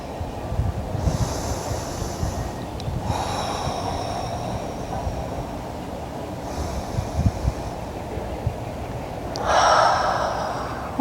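Deep yoga breathing held in eagle pose during an outdoor class in a park: slow, close inhales and exhales with airy rushes of breath. A sharper, louder breath comes near the end, with soft ambient rumble underneath.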